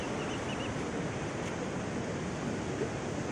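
Sea waves at Malpe beach, a faint, even wash of surf and wind noise with no distinct breaks, heard from a distance throughout.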